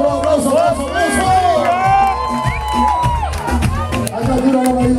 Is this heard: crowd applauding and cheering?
yes